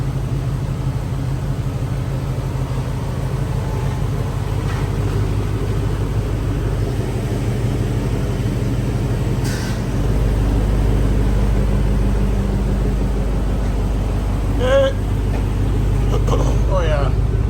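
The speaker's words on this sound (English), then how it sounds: "I think we got a muffler that's starting to not muffle as much" Loud, steady exhaust drone from a 2002 Chevy Suburban 1500 plow truck with a worn muffler, running continuously up close and growing slightly louder midway.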